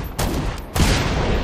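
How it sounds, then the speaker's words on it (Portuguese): Heavy .50 caliber gunfire in the video game Dead Rising 4, a loud, dense burst of shots that swells sharply partway through and keeps up a continuous rattling roar, with no talking over it. "Deixa eu dar tiro com a ponto 50,"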